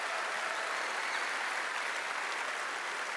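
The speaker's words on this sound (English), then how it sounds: "So give yourself a massive round of applause." An audience at PAX West 2017 applauds, a dense, even wash of clapping from a large crowd that holds steady throughout.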